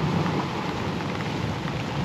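Heavy rain pours during a thunderstorm at sea on an anchored boat, a loud, steady, dense hiss with no voices.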